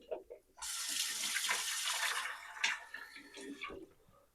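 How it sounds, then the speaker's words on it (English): A spoon is rinsed under a running kitchen tap. The water gushes steadily and close by for a few seconds, then stops. "Let me rinse this spoon off and see if that's any better."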